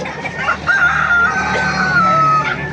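A rooster crows loudly and close at a Baliuag poultry market, one long sustained crow stretching over about two seconds against the murmur of the trading crowd.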